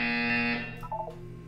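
A buzzer in the Portal 2 video game, a single loud sustained electronic tone lasting about half a second, followed by faint short chirps as it fades.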